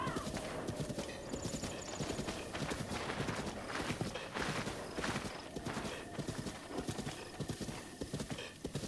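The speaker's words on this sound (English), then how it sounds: "I mean, there is a horse there." A horse in the video game Zelda Breath of the Wild, its hooves clip-clopping in a steady walking rhythm, with a few neighs and whinnies mixed in over game music.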